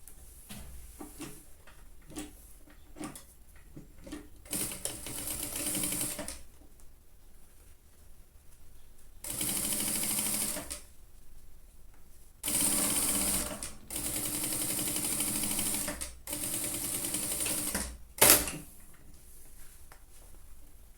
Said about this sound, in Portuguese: Então, eu vou costurar.